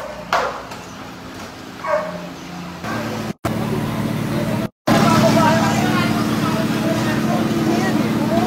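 Dogs bark and yip in a few scattered, sharp calls amid an evacuation from a flood-threatened house, with a steady engine or vehicle rumble and people talking throughout.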